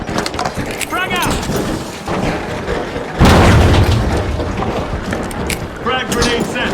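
A frag grenade explodes in the video game The Finals, a loud, close, heavy boom amid a busy mix of gunfire, debris and game chatter, with voices speaking throughout.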